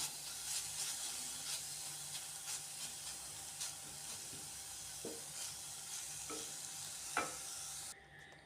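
Beetroot frying in a pan as ground paste is stirred in, giving a faint, steady hissing sizzle with occasional soft spatula scrapes and knocks, then a sudden drop near the end.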